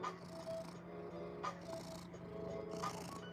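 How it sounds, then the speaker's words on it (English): A house cat purrs close by in a caravan, a soft steady rumble carried over several breaths with faint background noise and no speech. "Oh, him purring."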